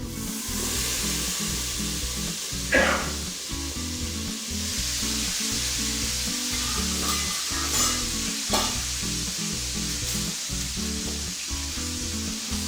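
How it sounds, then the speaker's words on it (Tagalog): Chicken fries in a skillet without added oil, a steady close sizzle with a few sharper spatters as the pieces are flipped, over a faint rhythmic background hum. "i-flip po natin yung chicken"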